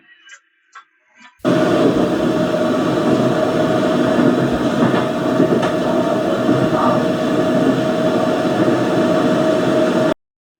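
Steady, loud rumble of a subway car interior in motion, a broad continuous roar with faint rail clatter that runs for about nine seconds after a brief quiet start with a few small sounds.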